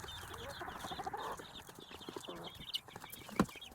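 Chickens in a coop cluck and murmur nearby in quick repeated bursts, with scattered rustling and a sharp knock near the end.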